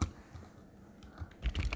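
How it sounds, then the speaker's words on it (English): Keys tap on a computer keyboard in a short, uneven burst. The typing is soft and close, with a brief pause in the middle before a quicker flurry, and no one talks. "just type"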